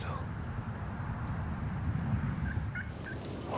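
A wild turkey hen calls during a spring turkey hunt in Ontario with a decoy set out, her short yelps faint and distant over a steady low rumble of background noise.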